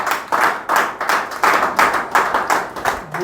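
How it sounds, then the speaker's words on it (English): An audience claps at a talk, a crowd's applause arriving in repeated rhythmic swells, fairly close and with no voices over it. "Please clap for me again."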